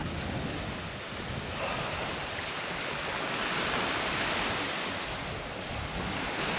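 Steady roar of Pacific Ocean surf washing in continuously on a beach in the Yasawa Islands, Fiji, with wind buffeting the microphone; no voices.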